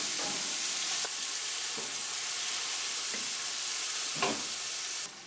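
Food frying in a hot pot of oil for Sunday tomato sauce: a steady, loud sizzle throughout, with a few scraping stirs of a wooden spoon breaking through at intervals.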